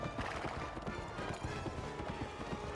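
Horse hooves galloping in Kameo: Elements of Power, a quick rhythmic clip-clop of repeated thuds at steady pace, fairly close, over a busy game soundscape.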